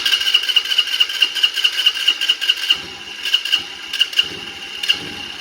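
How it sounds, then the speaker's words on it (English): A 2014 Kawasaki KFX90 ATV's electric starter cranks with a fast, steady whirring pulse, then the small engine catches and the sound turns rougher with uneven bursts, loud and close with no voices. "When it starts, let off the starter, the green button"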